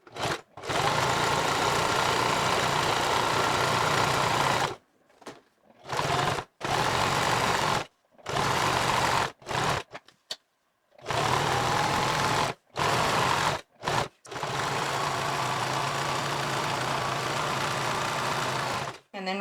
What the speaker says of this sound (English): I'm just going to sew straight down, following this line on the side of my sewing machine